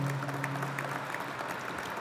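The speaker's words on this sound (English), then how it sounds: "Please, round of applause for him." An audience at a Hispanic Heritage Month closing ceremony applauds an award winner, a steady patter of clapping from a moderate crowd, fairly close and even throughout, with no voices.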